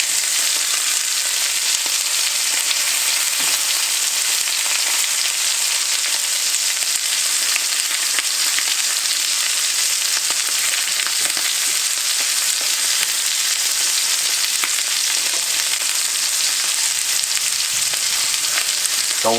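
Steak sizzling and frying in a cast iron pan, a steady dense crackle of hot grease running continuously and close, with no voices.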